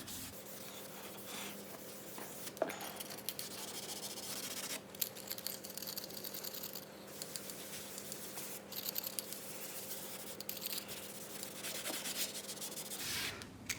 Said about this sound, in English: That rough noise you can hear is not the wire wool, it's the texture of the surface of the piano lid.